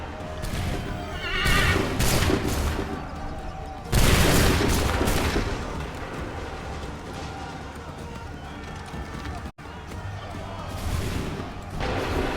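Musket volleys crack out in the Assassin's Creed III video game, with broad booming bursts at intervals amid a busy battlefield din, horses whinnying and voices shouting nearby.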